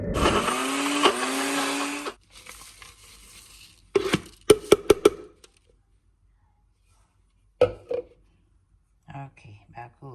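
A blender whirs loudly for about two seconds, grinding peppers for suya spice, then cuts off, followed by scattered clicks and rustles and short bursts of talk.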